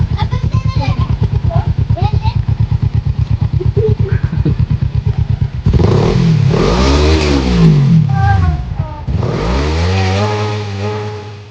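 Motorcycle engine revved hard up close, a rapid throbbing idle that surges into loud, rising and falling revs, with voices talking briefly over the start.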